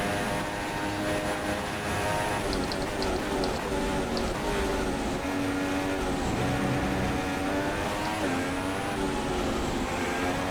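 An F1 car at full throttle in the F1 2016 racing game at the Belgian Grand Prix, a loud high-pitched engine whine climbing through gears with quick shifts, steady and close, with no talk.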